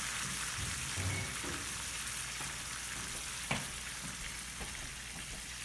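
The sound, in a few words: lime cooking down in pan, sizzling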